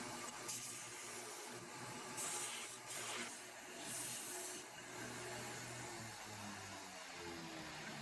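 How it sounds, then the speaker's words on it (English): A belt grinder cleaning up rough cut edges of a steel bar, a steady whirring hiss with a few brief harsher bursts as metal meets the belt, at moderate distance. "The rough cut edges are then cleaned up on the belt grinder."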